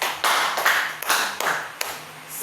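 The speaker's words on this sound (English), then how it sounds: "Give yourselves a round of applause" Classroom applause from students after a math lesson, a few bursts of hand clapping in rhythmic groups, close and fairly loud with no talk over it.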